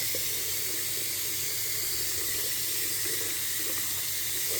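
Water sprays in a steady, continuous hiss from an Einhell battery-powered pressure washer during washing. The spray stays close and even throughout, with no talking.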